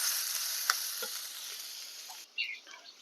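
Onions sizzling in a pan with singi and sona khorke fish curry, a bright continuous frying hiss with a few stirring clicks, cut off near the end by a short scrape.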